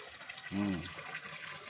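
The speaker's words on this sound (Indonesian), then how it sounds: "Pancuran paranti wasuh piring." Water runs from a bamboo spout used for washing dishes at a village home, a soft continuous trickle heard faintly beneath a short voiced sound.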